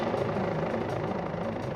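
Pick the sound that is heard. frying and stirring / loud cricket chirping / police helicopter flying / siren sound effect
police helicopter flying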